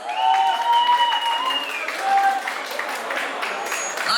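Applause from guests at a Turkmen wedding in Istanbul, steady clapping beneath a sustained singing or melodic tone early on, with the crowd sound continuing evenly throughout.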